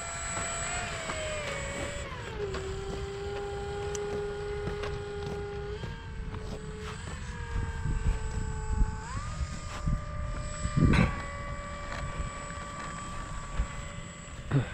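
A Dynam Cessna 188 RC model airplane, orange with a 1500mm wingspan, flies overhead with a steady electric motor whine that shifts pitch several times as the throttle changes, over light wind and outdoor background noise.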